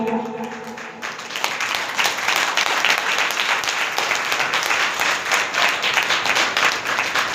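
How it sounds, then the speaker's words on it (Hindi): A church congregation claps and applauds together, a brief tonal sound fading at the start before dense, loud clapping takes over and continues steadily with crowd noise beneath. "तालियां बजाने का?"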